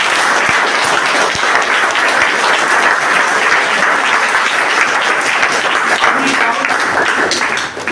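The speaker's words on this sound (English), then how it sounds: "A big round of applause," Sustained, loud applause from an audience at the end of a study-skills session, steady dense clapping that fills the whole stretch before tapering off at the very end.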